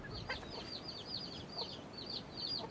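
Hen and newly hatched chicks on a farm make repeated soft clucks with high peeping chirps scattered throughout, close and fairly faint, with no talking.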